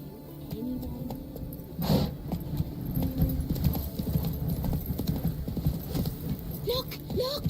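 Horse hooves galloping in The Witcher 3, a fast, steady clip-clop close by running throughout, with a short louder burst near the start and a few faint higher sounds toward the end, no voices.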